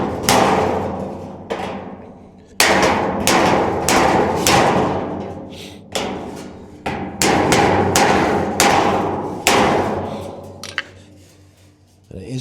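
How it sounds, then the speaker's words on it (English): Repeated hammer blows on the sheet-metal tin of a Massey Ferguson 168 tractor cab, struck with the hammer face from the inside; loud, close metallic thuds in irregular bursts, with brief pauses between runs of strikes. "So we're going to use the face of the hammer on there."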